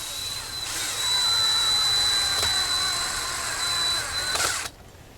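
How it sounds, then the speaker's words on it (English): A power drill drives a screw into a wooden board in a side yard, giving one steady, close, high whine for about four seconds before it cuts off. "Take a drill and a screw."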